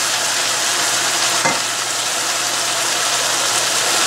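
Cabbage and mixed vegetables frying in a pan for a pasta dish give a steady, loud, close sizzle, with a brief scrape of stirring partway through.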